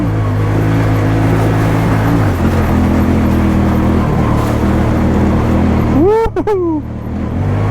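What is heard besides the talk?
2020 Honda Talon 1000X4 off-road vehicle engine accelerating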